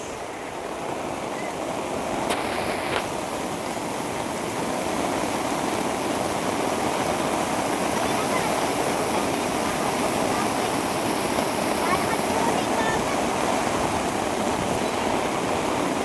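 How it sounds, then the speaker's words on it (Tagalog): Strong sea waves break on a beach at Dingalan, Aurora, during wind and rain, making a continuous loud wash of surf that holds steady throughout with no clear gaps. "Lakas na po kuya ng dagat."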